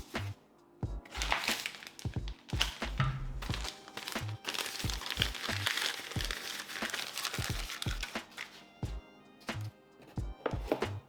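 Keychron Q2 keyboard packaging being closed up, with dense crinkling of plastic and paper broken by repeated soft thuds and taps as box parts are pressed shut, close and steady throughout.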